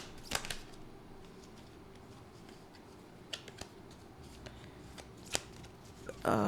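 Tarot cards are handled and shuffled during a reading, making a quiet bed of soft card noise. Sharp flicks and snaps stand out now and then against it, and a louder burst comes at the very end.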